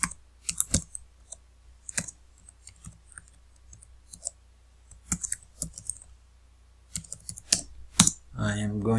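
Keystrokes on a computer keyboard while column headers are entered into a report, coming in short clustered bursts of clicks separated by pauses, close and moderately loud, with a brief buzzier burst at the end.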